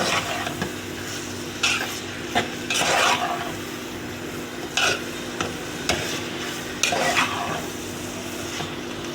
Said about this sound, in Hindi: अब मैं इसमें ये तमाम गोश्त डाल दूँगी। और इसको इसके साथ अच्छे से भून लूँगी।